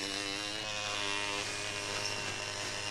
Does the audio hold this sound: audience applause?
no